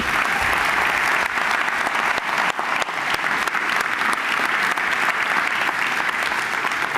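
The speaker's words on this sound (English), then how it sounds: "Yeah, we can clap for this." Loud, sustained applause from a main-hall audience at a tech innovation semi-final event, with dense clapping continuing steadily throughout and no gaps.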